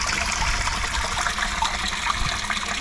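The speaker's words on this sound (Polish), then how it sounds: "No ale źródełko jest i z góry wypływa woda." Water trickling and splashing steadily from a small spring flowing down from higher ground in Germany, close by and continuous, with no voices.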